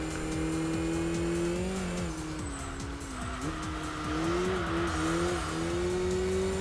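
A BMW engine held in high gear in the racing game Enthusia, a steady loud drone that rises and dips slightly with throttle, with tire squeal running underneath and no talk.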